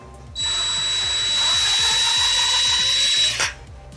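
A power drill fitted with a bolt extractor spins slowly in reverse on a stripped bicycle headset top cap bolt, a loud steady whir for about three seconds that starts and stops sharply.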